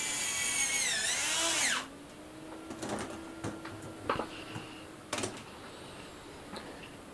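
A power drill drives screws into a guide on a Chicago Electric portable band saw table. A close, loud whine rises and falls in pitch for almost two seconds, then scattered clicks and handling knocks follow.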